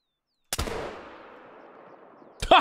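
A single loud muzzleloader rifle shot goes off in a hunting video game, followed by a long rumbling decay, and a second sharp burst comes near the end.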